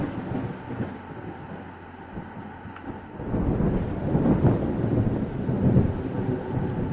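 Thunderstorm with rain: a steady hiss of rainfall under a deep rolling rumble of thunder that swells midway and stays loud and low to the end.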